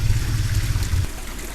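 A toilet flushing nearby, a rushing gush of water that runs strongly for about a second, then drops to a softer trickle as the tank drains.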